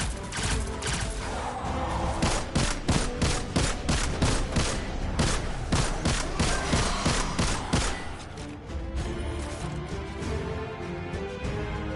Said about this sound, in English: Let's go ahead and toss a nade.